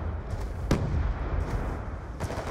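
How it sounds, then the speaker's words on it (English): Missile strike explosions from a Hellstorm in a Hardpoint match of a first-person shooter: several sharp blasts with rumbling tails, fairly faint and distant-sounding, with no talking over them. "Hellstorm missile inbound."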